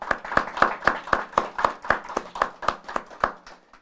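A single pair of hands claps about a dozen times in an even, fairly quick rhythm, close and moderately loud, welcoming guests at a law and technology talk before the claps stop.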